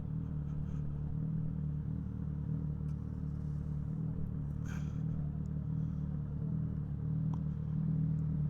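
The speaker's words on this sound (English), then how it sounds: "exhaust sound," A Suzuki GSX-S1000 motorcycle idles with a steady low exhaust burble and rumble, close and continuous throughout, with a couple of faint clicks and clatters over the top.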